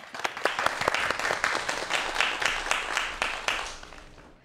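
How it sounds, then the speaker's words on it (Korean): A studio audience at a televised science lecture claps in a lively burst of sharp, distinct hand claps that gradually thins and fades toward the end. "여러분 박수 부탁드리겠습니다"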